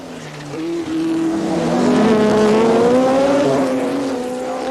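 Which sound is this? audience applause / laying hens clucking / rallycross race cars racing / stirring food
rallycross race cars racing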